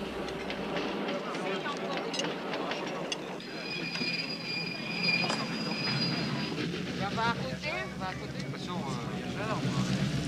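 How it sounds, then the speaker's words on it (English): A descending train rumbles past with high metallic wheel squeals, while a voice talks over the continuous rolling noise. "the caravan pauses to let the descending train pass"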